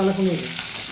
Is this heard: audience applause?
no